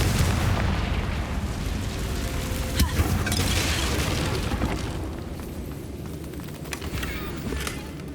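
Confringo fire spell blasting a bridge in the Hogwarts Legacy video game, a dense rumbling explosion with sharp bursts that holds loud and steady for several seconds, with no talk over it.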